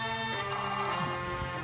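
An electronic phone ringtone plays steadily, a tonal melody with a bright high chime in the middle, no voices.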